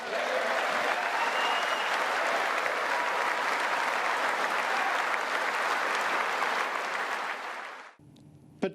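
Sustained, dense applause from the audience at a presidential State of the Union address fills the room at an even level, then cuts off abruptly near the end.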